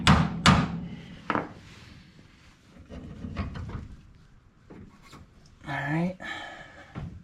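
Sharp metallic hammer whacks ring out on a Dodge tie rod in a garage, with two strong hits at the start and a few lighter taps later, mixed with shop handling noise and someone speaking briefly near the end.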